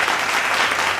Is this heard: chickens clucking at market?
no